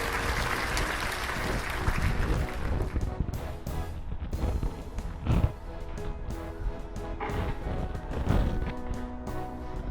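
A studio audience at a quiz show applauds to welcome a contestant, a broad wash of clapping that is strongest at first and then thins and tapers over about ten seconds.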